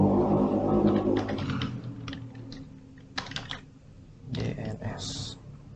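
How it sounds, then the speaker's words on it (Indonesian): Computer keyboard typing in a networking lab session, with scattered clusters of soft key clicks and short bursts of taps, close by and moderately quiet, mixed with faint background noise. "Ketik aja misalnya 36 deh"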